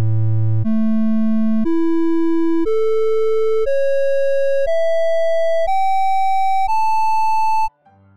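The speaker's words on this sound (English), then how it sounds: "The first 8 overtones, including the fundamental, sound like this" Eight pure tones stepping upward one by one, forming the first eight overtones of the harmonic series on A1 with the fundamental first, each held about a second, loud and steady, with a brief low noise at the end.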